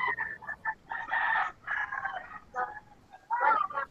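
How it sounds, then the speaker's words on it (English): A rooster in the Philippines crows loudly and very close by, a series of strained, broken calls in quick succession with brief pauses between bursts, standing alone without talk. "it sounds like you got a rooster like on your lap."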